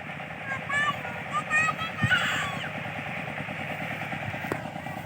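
A water pump engine runs steadily, pumping water into a rice field, with a continuous loud drone throughout and people talking over it.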